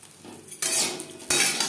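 Chopped boal fish roe fries in a pan, a steady hiss of sizzling oil broken by sharp scrapes and stirring clatter from a utensil against the metal, with no voices.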